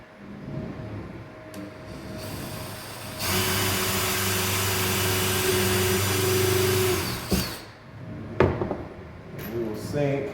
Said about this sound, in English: pre-drill our hole here.